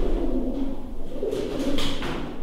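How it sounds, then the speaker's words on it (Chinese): Pigeons cooing inside an abandoned building, soft repeated throaty coos rising and falling over a low hollow room hum, no talk. "位于探险者上方的某处听起来像是鸽子的不祥的叫声也变得"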